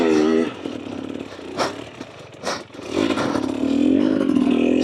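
A 2024 Husqvarna TE250 dirt bike with an FMF Turbine Core 2.1 exhaust lugs along a trail in low gear, its engine note rising and falling in revs with some clatter, close up.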